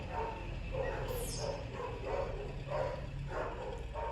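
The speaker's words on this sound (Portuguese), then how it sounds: "Tá subindo um caminhão VEC na rua, por isso que os cachorros estão latindo" Several dogs bark repeatedly at a passing VEC truck on the street, a run of sharp bow-wow barks at moderate distance over a low rumble of the truck.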